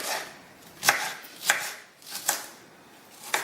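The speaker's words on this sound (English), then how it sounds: "So we just chop it up as rough as you can" Knife chopping onion on a board, four sharp, evenly spaced close chops against a quiet background.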